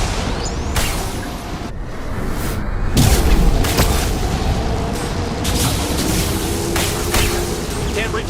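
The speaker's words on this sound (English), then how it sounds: "Watch out, flashbangs!" Flashbang explosions in Mass Effect 2 during a firefight, heavy booms over a continuous loud battle din with gunfire, and character voices calling out beneath the noise.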